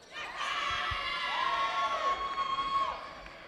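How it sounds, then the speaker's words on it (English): Ambrose Lions fans at a basketball game cheer and shout in a loud, sustained burst of crowd noise with whoops, lasting a few seconds before fading. "Ambrose Lion fans, that's something to cheer about."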